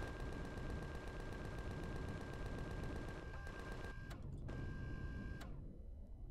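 Rapid automatic gunfire in the Empyrion Galactic Survival game, shooting out a block, a dense continuous burst of evenly spaced shots that runs for several seconds, then stops with a few isolated shots and a fading tail, with no talk.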